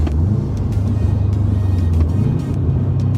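A Subaru WRX hatchback's boxer four-cylinder engine drones steadily while driving, a loud, low, even rumble that dips briefly and returns, with no talking over it.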